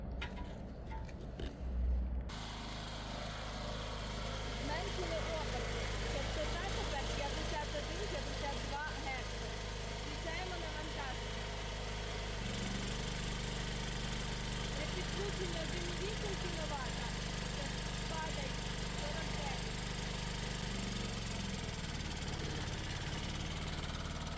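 A petrol generator engine runs at reduced speed as its revolutions are turned down with an adjusting bolt, a steady mid-pitched hum throughout, close and continuous, with a person speaking over it.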